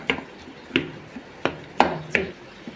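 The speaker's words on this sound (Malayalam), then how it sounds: "മഞ്ഞളും ഉപ്പും ഇട്ടിട്ട് വേവിച്ച കിഴങ്ങാണ്, മരക്കിഴങ്ങ്. ഇതിനെ ഉടച്ചിട്ട്" Boiled tapioca (cassava) cooked with turmeric and salt being mashed in a pot, about six sharp, close knocks spaced irregularly, with no talking.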